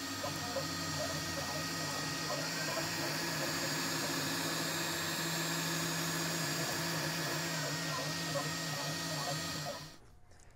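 A 3D printer printing a dagger model runs with a steady mechanical hum and whirring stepper tones, continuous and fairly close, stopping abruptly near the end.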